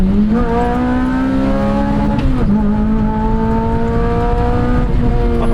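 A 2006 Lotus Elise engine droning loud and close, its pitch rising then dipping sharply as throttle blips match revs on heel-toe downshifts, steady over the whole stretch.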